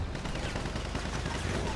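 Dense, continuous gunfire from GTA 5 Online, rapid overlapping shots forming a loud, steady barrage with no clear gaps.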